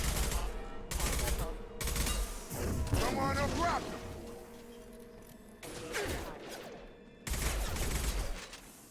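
Rapid bursts of gunfire from the video game Mass Effect 2, loud and repeated in clustered volleys with brief gaps, mixed with game effects and occasional voices.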